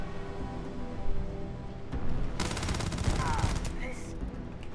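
Gunfire from Starfield rattles in a continuous stream of shots under a steady game soundscape, intensifying midway, with a voice faintly present.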